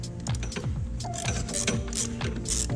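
A ratchet working a battery bracket bolt under the hood of a BMW X2 (F39), with quick repeated clicking strokes and metallic handling sounds, close and fairly faint, with no talk.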